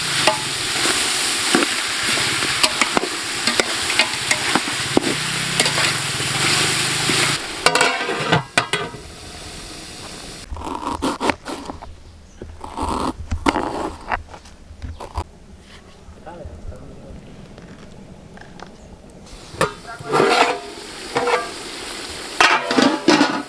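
Spicy Telangana village-style country chicken curry with tomatoes fries in hot oil, sizzling loudly while a ladle scrapes and stirs the pan in bursts, then quieter clattering stirs follow.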